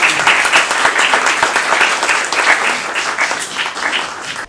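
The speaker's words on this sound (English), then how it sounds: "So I invite all of you to give a very warm round of applause to our esteemed guest, Professor Surya Rashmi Rawat." A crowd at a college talk welcomes a guest speaker, applauding steadily and fairly loudly, a dense patter of many hands clapping that holds for several seconds before tapering at the end.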